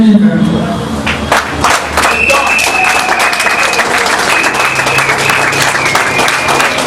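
A large crowd applauds loudly and continuously at an opposition march, with a voice speaking over the clapping.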